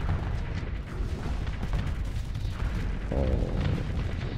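Torpedoes firing in the space combat game Starsector, with dense, continuous booming weapon fire and a sharper launch burst near the end, loud and close.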